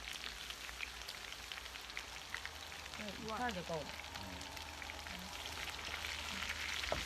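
Pork belly frying on an iron griddle at a family meal, a steady soft crackle and sizzle of rendering fat throughout, with a brief spoken phrase in the middle and a faint voice later.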